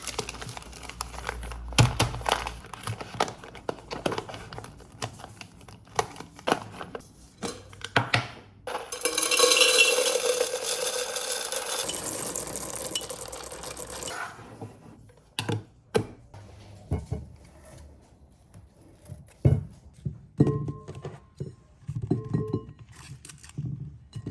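Groceries go away in a home kitchen as plastic bags and packaging crinkle and rustle close by, with a long loud burst of bag handling among scattered clinks, taps and thumps of items being set down.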